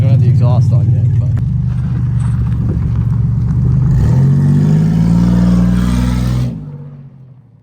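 A loud, raw supercharged Monte Carlo engine with no exhaust fitted revs up and holds a high drone, with a rising supercharger whine, then cuts off abruptly and fades.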